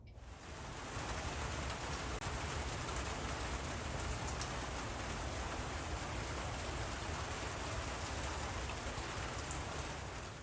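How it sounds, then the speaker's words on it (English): Steady rain falling outdoors, a dense even hiss of drops on surfaces that fades in at the start and holds at moderate level throughout, with no voices. "it did rain last week and I did film that"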